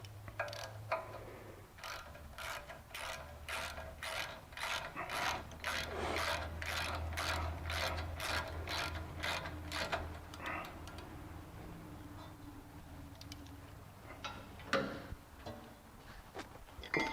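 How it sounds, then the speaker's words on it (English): A ratchet clicks in quick, evenly spaced strokes while the brake caliper mounting brackets on a 2006 Toyota Tacoma are tightened, loud and close over a low hum, slowing to a few final clicks. "And tighten our caliper mounting brackets back down"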